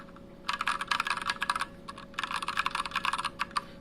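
Fast typing on a mechanical keyboard fitted with Kailh Pro Purple switches, a dense run of crisp close keystroke clicks in two bursts with a brief pause between, over a faint steady hum.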